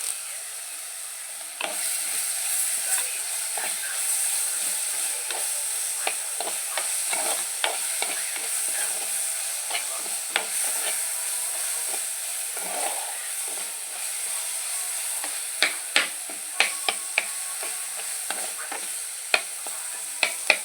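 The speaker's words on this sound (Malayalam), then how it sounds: "എനിക്ക് കരിവേപ്പിൻ്റെ ഇല ഇട്ട് കൊടുക്കും." Curry leaves fry in hot oil for a homestyle Kerala dish, a steady close sizzle with scattered sharp crackles and spits, growing snappier toward the end; no talking.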